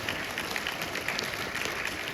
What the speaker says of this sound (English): More of you clap for Sarah.